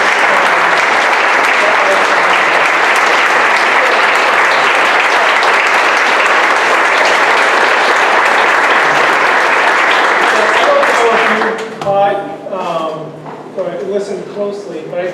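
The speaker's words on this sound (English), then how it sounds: "can we just have one more round of applause?" A school committee meeting audience gives a long, loud round of applause, dense and even throughout, then cuts off abruptly as a voice begins speaking.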